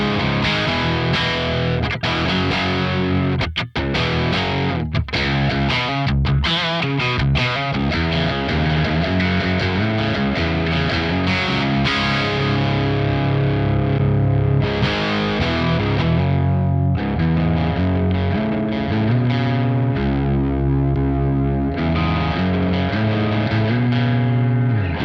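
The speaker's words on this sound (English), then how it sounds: "what I'm hearing here with the bright switch, is that it kind of brings out more of the kind of stringy jangliness of your guitar" Electric guitar through a Revv Generator 100R MKIII amp with the bright switch engaged, loud and distorted, playing steady chugging riffs and ringing chords for a long stretch without voices.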